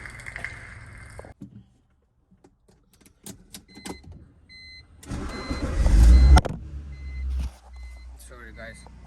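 A used car's engine cranks and catches, then idles at a low rumble, with scattered mechanical clicks and handling noises around it and a louder burst of revving partway through.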